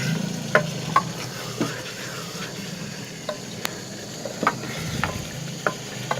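Fried chicken pieces stirred in a karahi, with a steady low sizzle of oil under a few sharp scraping and clinking knocks of the spoon against the pan, spaced out irregularly, fairly close.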